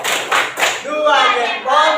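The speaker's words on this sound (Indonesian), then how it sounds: "Kita beri tepuk salut untuk Agita." A classroom gives a student a 'tepuk salut' applause: three quick, close bursts of clapping, then voices chanting together.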